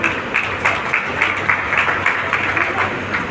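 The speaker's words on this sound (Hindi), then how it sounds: "जोरदार तालियां हो जाए सभी स्टाफ हमारे के लिए।" Applause for staff at a stage event in Jaipur, a crowd clapping loudly in uneven, pulsing bursts that keep going without a break.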